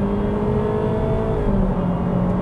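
2022 Honda Civic Sport accelerating with simulated gear shifts, a steady engine drone heard from inside the cabin with air conditioning running and a rising tone that dips and climbs again.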